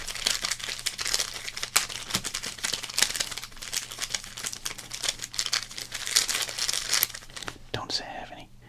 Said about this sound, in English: Rapid crinkles.